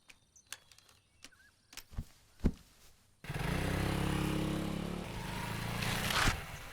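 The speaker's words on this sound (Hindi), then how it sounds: "बाइक पे बैठ" A motorcycle engine starts up and runs at a steady loud drone after a few sharp knocks and clatters, close by, with the engine noise swelling slightly near the end.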